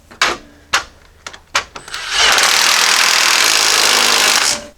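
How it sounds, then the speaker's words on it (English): An impact wrench tightening a bolt on a Jeep Cherokee XJ 4.0L engine during a camshaft job: several short sharp clicks and knocks, then a loud sustained hammering whir lasting over two seconds before it stops. "I'm just going to use an impact right now to tighten this up"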